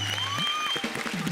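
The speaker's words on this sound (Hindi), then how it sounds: "तालियां बजाओ भी" Brief clapping from a studio audience on a televised poetry competition show, partly under a speaking voice and background music tones.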